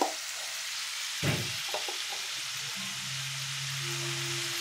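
Panch phoron spice powder frying in hot oil, a steady close sizzle with a brief clatter of stirring partway through, no talking.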